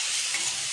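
Onions frying in oil in a pan, a brief, close, steady sizzle with bright hiss and no voices.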